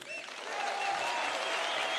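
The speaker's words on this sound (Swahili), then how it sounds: "Makofi, makofi kwa mheshimiwa" Applause for a speaker at a political event where a Safina Party presidential candidate is declared, a dense crowd clapping that swells after a brief start and holds steady and loud throughout.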